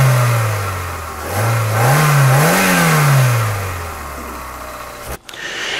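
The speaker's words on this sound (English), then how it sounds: "I'm going to fire up the vehicle" A vehicle engine cranks over and fires up, then revs up and down a couple of times before settling back toward idle, loud and close, with no voices; it cuts off abruptly near the end.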